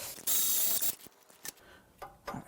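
A ratchet works on power steering bolts during a top-end teardown of a C4 Corvette LT1, a burst of rapid clicking followed by sparse, sharp mechanical clicks and knocks at close range.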